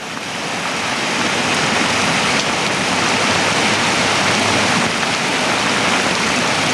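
Floodwater rushes along a road in Los Angeles during heavy rain, a loud, continuous broadband roar of churning water that stays steady throughout.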